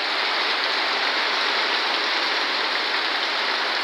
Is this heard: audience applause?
no